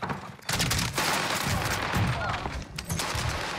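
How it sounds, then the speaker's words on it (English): A Streetsweeper shotgun firing in Call of Duty Warzone on Rebirth Island, heard as a few loud, sharp blasts amid steady in-game battle noise. "Fucking shotgun."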